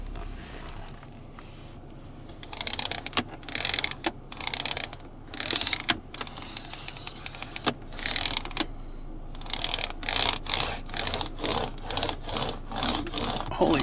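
Reusable mini roller screen cleaner rubbed briskly back and forth across a pollen-dusted Tesla touchscreen, making close, dry scrubbing strokes that speed up into a fast regular rhythm toward the end.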